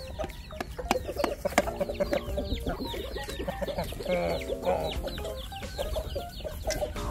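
Native chickens at feeding time, with a flock clucking and squawking continuously and busily up close, in overlapping calls and no talk.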